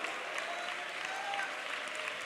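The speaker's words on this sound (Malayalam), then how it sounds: "ശക്തിയോടെ കൈയടിച്ച് ദൈവത്തെ സ്വന്തം പറ" A church congregation at a Sunday worship service clapping their hands together in praise, a sustained patter of many hands heard at moderate distance and fairly soft.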